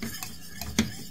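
Paprika, pepper and salt are stirred in a dish, a few soft scraping strokes and a brief clink of a utensil against the dish, quiet and close with no talk.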